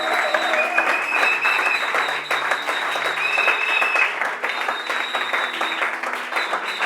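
Sustained applause and cheering from a church congregation during a sermon, steady and loud for the whole stretch, with some voices calling out within the crowd.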